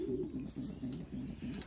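A racing pigeon coos close by in a low, repeated rolling rhythm, several soft throaty phrases in a row.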